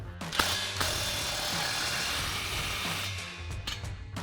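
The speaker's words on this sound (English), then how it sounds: "I'm gonna grab a 16mm socket to tighten down the clamp" A 16mm socket on a hand ratchet tightens an exhaust clamp on a Chevrolet Silverado 1500 during an AWE 0FG dual exhaust install. Rapid clicking pawl ratchets in several close strokes, with brief pauses between them.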